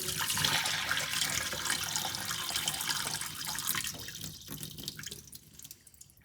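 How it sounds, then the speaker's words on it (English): Water drains from rinsed sushi rice, pouring and splashing steadily like a sink draining, then thinning to sparse trickles and drips as it tapers off near the end. "we're going to just get rid of the water"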